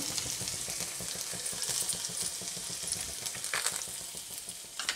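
Thinly sliced garlic cloves frying in a pan for Afghani chicken, a steady dense sizzle with faint stirring clicks throughout, close and fairly loud, no voices.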